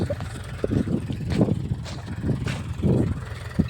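A tractor engine runs during castor sowing on a farm, a steady low rumble with uneven surges and knocks that stays fairly close throughout.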